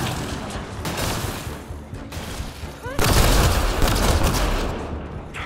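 Sustained gunfire from flaming ammunition in the video game Mass Effect Andromeda, a dense continuous burst that grows louder and heavier partway through, with a metallic mechanism click along the way.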